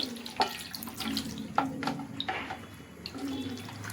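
Half a kilo of mutton rinsed under a running kitchen tap, steady water flow with splashes and clinks as the meat is handled in the sink, fairly quiet and close.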